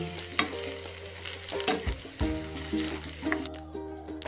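Boiled green gram is stirred in a hot pan for Kerala-style cherupayar thoran, with scraping spoon strokes and a soft sizzle, close and clear and free of talk.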